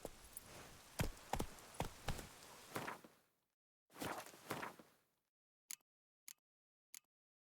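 Roach the horse from The Witcher 3 walking, hoofbeats thudding in a steady series for about three seconds, then a short burst after a pause, followed by three sharp, isolated clops spaced apart near the end.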